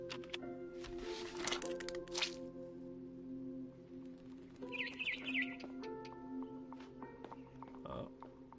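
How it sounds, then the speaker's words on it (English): A barn swallow chirps just outside a window in the video game What Remains of Edith Finch: brief high twittering calls rise above a steady background of game music and ambience. "Then I heard chirping outside my window."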